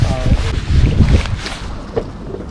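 Wind buffets the microphone in loud, gusty rumbles while bass fishing from a boat on the water, a steady blustery roar with brief surges and splashy noise.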